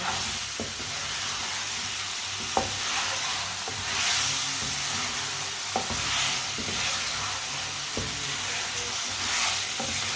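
Eggs frying in a pan over a medium flame produce a constant loud hiss and sizzle, broken by a few sharp utensil taps spaced out across the stretch, close up with no voices.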